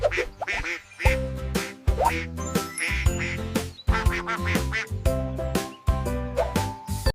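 A duck quacks in a rapid, repeated series of nasal calls, close and loud, broken by brief pauses, with no talk.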